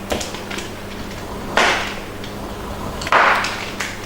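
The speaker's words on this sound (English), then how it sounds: "You just take your knife and you just shred your chocolate." A knife shreds a bar of chocolate in two distinct rasping scraping strokes over a low steady background hum, close and fairly loud, with no talking.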